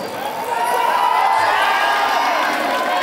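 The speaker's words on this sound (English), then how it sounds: "This is a phenomenal crowd here, especially inside that Excel Centre" A large indoor crowd at a triathlon in the Excel Centre roars and cheers continuously, a dense, loud wash of shouting and whooping that holds steady throughout.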